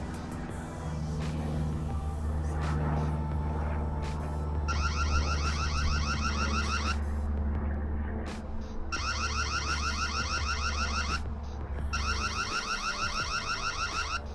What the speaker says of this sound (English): You can also record and set a siren off.